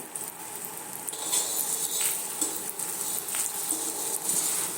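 Two eggs fry in hot oil in a pan with a soft sizzle, with occasional light scrapes and taps of a utensil against the cookware.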